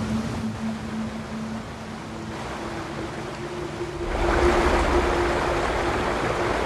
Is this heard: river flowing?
yes